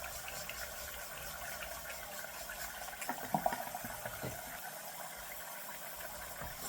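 Steady running water, likely a tap, flows continuously at moderate level through a bathroom before a shave, with a few brief louder splashes midway and a low rumble beneath.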